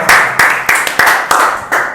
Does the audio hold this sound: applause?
yes